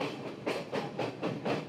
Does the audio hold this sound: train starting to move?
yes